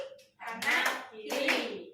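A group claps in a taught pattern, two short bursts of hand claps heard close up with a brief pause between them, with voices mixed in.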